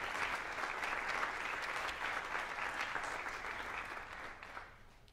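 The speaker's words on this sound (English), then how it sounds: "Go ahead, yes, clap for these folks." An audience at a jazz honor band concert applauds the band directors with sustained, full clapping that stays strong and then gradually thins and fades toward the end.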